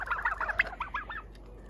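Soft, rapid clucking from laying chickens in a quick burst of short notes, close by, then fading into quiet.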